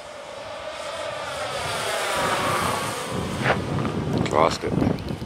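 A Hobbyking Rare Bear 1400mm RC airplane flies overhead in wind, its engine whine rising and falling through a Doppler sweep against gusty microphone wind noise, with bumps and handling sounds near the end.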